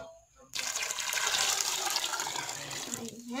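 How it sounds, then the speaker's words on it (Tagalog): Homemade chicken broth pours steadily into a cooking pot for chicken macaroni soup, a loud continuous splashing stream that starts abruptly and runs for about three seconds, with a voice heard around it. "ilalagay ko munang sabaw is yung pinaglagaan ko ng chicken."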